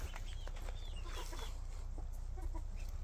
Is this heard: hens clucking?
yes